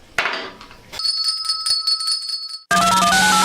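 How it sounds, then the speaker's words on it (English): A hand bell rings once with a clear, sustained metallic tone that decays, followed abruptly by louder music starting. "Now where's my bell?"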